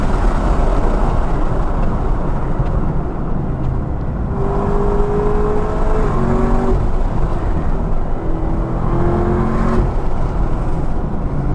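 A Camaro ZL1 1LE at full throttle on the Sebring circuit, its engine roaring loudly and continuously with rising revs and quick shifts, heard from on board.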